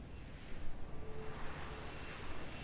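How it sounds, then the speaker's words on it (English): A helicopter landing in the video game Deus Ex: Human Revolution produces a steady, moderately loud rotor and engine drone with a dense rumbling wash, continuous throughout without any speech. "the helicopter starts to land."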